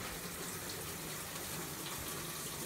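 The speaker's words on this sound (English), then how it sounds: "That'll get rained on for about 10 minutes." Water sprays steadily from a shower head onto trays of sprouting fodder for rabbits and chickens, a constant, fairly soft hiss with no breaks and no talking.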